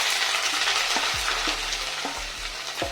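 Spices and salt tipped into ginger-garlic paste frying in a pan for paneer masala, giving a steady close sizzle with a few soft stirring scrapes and clinks throughout.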